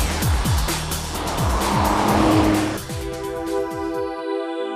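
An Audi R8 supercar with a V10 engine revs hard, its note sweeping up and down through rapid gear changes, loud and near, before settling into a steady high drone and fading out at the end.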